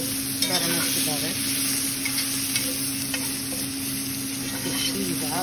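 Steak bites sizzle in butter in a cast iron skillet, a steady crackling fry with a constant hiss, occasional stirring scrapes, and a voice speaking briefly over it.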